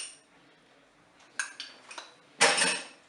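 A spoon clinks against a metal pot while stirring mustard into a sauce for endive béchamel in a Cookeo, with a few sharp scrapes and taps, then a louder burst of clattering near the end.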